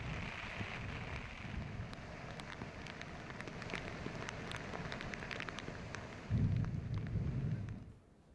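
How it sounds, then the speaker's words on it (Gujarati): Heavy rain pours down on Bhader village near Dhoraji, a dense steady hiss of drops on surfaces that swells louder near the end before easing off. "ભારે વરસાદના કારણે ગામ પાણી થયું."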